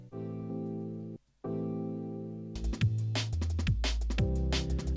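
A higher-end Rhodes electric piano in a liquid drum and bass mix holds sustained, warm chords with a brief drop-out, then busier notes enter over a deep bass line, moderately loud with no talking.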